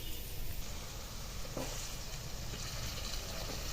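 Squeezed spring onion greens sizzle in hot tempering oil, making a dense, steady hiss close up with a brief stirring scrape midway. Nobody speaks.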